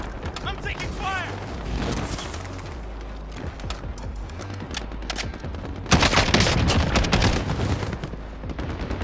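Rapid bursts of automatic gunfire and scattered shots ring out in a military shooter video game, loud and dense, with a heavier burst partway through and a voice speaking over the action.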